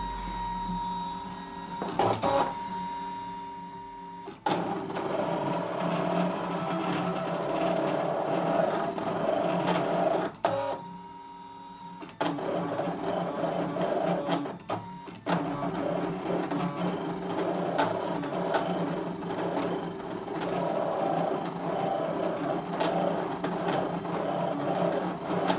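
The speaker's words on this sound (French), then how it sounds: "Voilà, je vais tout simplement lancer la découpe." A Brother ScanNCut CM cutting machine cuts fabric with a steady mechanical whir and buzzing, broken by short pauses and shifts in tone as the head moves, close and fairly loud with no talk.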